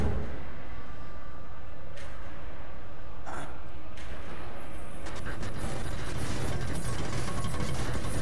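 Crafting bolts at a workbench in The Evil Within on PS4 gives a dense run of mechanical ratcheting and gear clicks. It plays over a steady, busy game-ambience bed with no talk.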